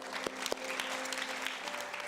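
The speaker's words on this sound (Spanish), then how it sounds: "Demos un aplauso fuerte al Señor." Applause from a church congregation at the close of a Spanish-language prayer, steady dense clapping filling the whole moment with no voices over it.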